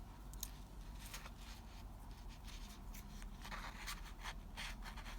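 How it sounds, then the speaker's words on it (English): Scissors snipping a small strip of green paper for a paper pumpkin stem, a run of light, quiet crisp cuts and rustles close by with no talking. "you take your green paper and you cut off like a little bit, like a small strip"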